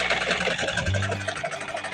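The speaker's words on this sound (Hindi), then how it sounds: "वहीं से पकड़ेंगे और हाफ इंच का सिलाई लगाएंगे" A sewing machine runs steadily, stitching a half-inch pleat in a blouse with a continuous whirring hum and a brief lower drone partway through, with no talking.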